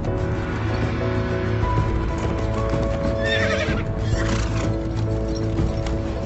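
Horses at a joust neigh loudly in drawn-out whinnies over rhythmic clip-clopping hooves and low rumbling movement, all close and busy without speech.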